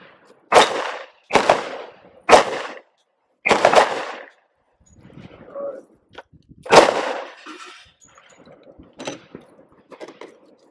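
A Gen 2 Glock 23 pistol fired one-handed at a range, loud sharp reports with ringing decay, several spaced about a second apart, then quieter handling sounds and one more shot.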